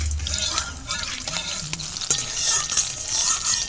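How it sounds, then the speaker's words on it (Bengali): Nigella seeds and green chilies fry in hot oil, giving a crackling sizzle with scattered pops and stirring scrapes, fairly close and moderately loud. "আর অল্প একটু কালো জিরে দিয়ে দেবো এবার একটু ফোড়নটা ভেজে নেব"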